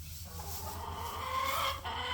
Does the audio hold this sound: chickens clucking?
yes